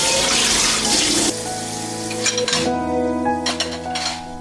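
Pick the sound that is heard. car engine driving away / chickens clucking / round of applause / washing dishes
washing dishes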